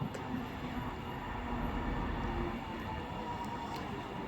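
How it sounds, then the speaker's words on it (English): A Virgin train at Stockport station on the West Coast Main Line branch to Manchester Piccadilly, a steady low rumble and hum of rolling stock close by, continuous throughout with no talk. "1356 Virgin train service to Manchester Piccadilly"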